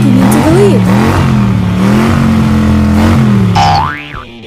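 A cartoon fire monster truck revs loudly in a race, its engine pitch swooping up and down continuously, with a springy boing effect near the end as the sound fades.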